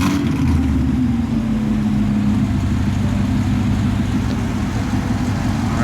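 A C7 Corvette Stingray sports car engine running loud and close on a dyno, holding a steady rumbling idle with slight revs, no talking.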